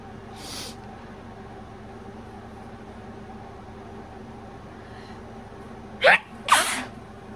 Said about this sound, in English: I cannot stop sneezing today.